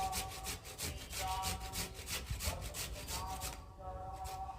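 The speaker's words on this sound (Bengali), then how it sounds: "দেখো আলুটাকে ভালো করে ঘষে নিচ্ছি" Potatoes are grated by hand, making a fast rhythmic scraping of repeated rasping strokes close up that stops abruptly near the end.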